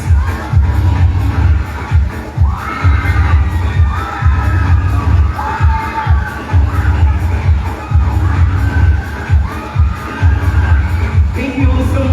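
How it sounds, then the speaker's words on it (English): A crowd at a school awards night cheers and shouts loudly for the special award recipients, with children's voices clearly among them. The roar comes in repeated swells with thumps mixed in and goes on without a break. "let's give a big round of applause to the recipients of our second special awards"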